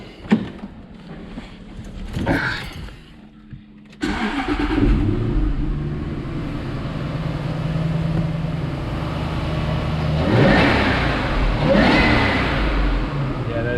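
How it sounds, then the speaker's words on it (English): A supercharged Jaguar V8 with a DIY intake starts with a sharp crank, settles into a rough idle, then revs up twice with a loud intake roar and supercharger whine. "Supercharger sounds louder as well."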